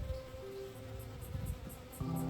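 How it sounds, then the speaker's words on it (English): A fly buzzes faintly and steadily around blackberry flowers outdoors in late spring, a low continuous drone with no voices. "this gross fly turned up and spoiled the mood completely"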